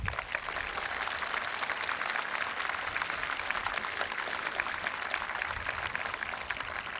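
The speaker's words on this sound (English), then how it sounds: "Please join me now in applauding the faculty and students" An audience at a 2014 high school graduation claps steadily, a dense, even wash of many hands that holds at a constant level throughout without a pause.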